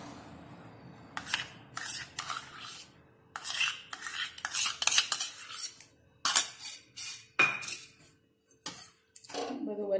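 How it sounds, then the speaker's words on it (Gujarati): A spoon scrapes and clatters repeatedly against a pan while cream is worked into roasted wheat flour, in uneven bursts of close metallic scraping with brief pauses. "બધું બરાબર મિક્સ કરી લઈશું."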